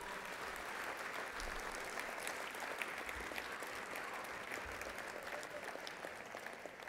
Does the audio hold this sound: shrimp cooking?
no